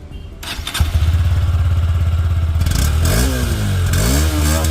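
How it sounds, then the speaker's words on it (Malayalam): Honda Hornet 2.0 motorcycle, a 2025 OBD2B model, starts up and settles into a loud, close steady idle, then gets a couple of sharp throttle revs that rise and fall before it drops back to idle. "ഇനിയും ഇതിൽ നിന്ന് വരുന്ന സൗണ്ട് ഒന്ന് കേട്ട് നോക്കാം."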